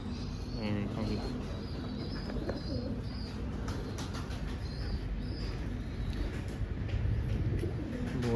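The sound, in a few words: pigeons cooing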